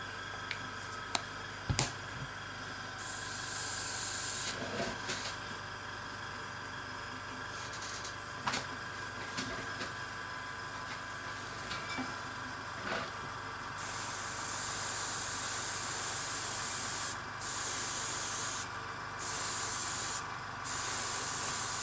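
Aerosol spray paint hisses in long, steady bursts onto a Deathwing miniature, a loud continuous spray that cuts out briefly several times near the end.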